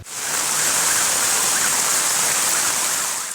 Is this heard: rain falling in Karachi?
yes